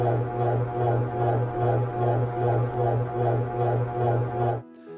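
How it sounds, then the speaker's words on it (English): An industrial fan hums in a steady, low drone. Its whooshing pulses throb in a regular rhythm, then the sound cuts off abruptly near the end. "I have this loop that came from an industrial fan and it sounds like this."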